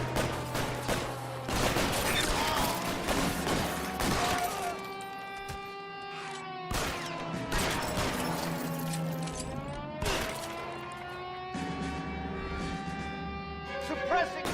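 Gunfire in the L.A. Noire video game: repeated loud bursts of shots, smashing impacts and ricochets in an intense shootout, with a voice talking over the action.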